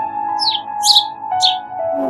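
A sparrow gives three bright, high chirps spaced about half a second apart over a faint steady background hum.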